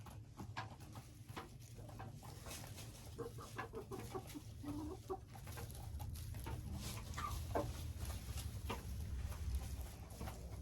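Hens in a chicken coop on a cold winter day cluck and murmur softly in scattered, overlapping calls over a low steady background hum, fairly quiet and close by.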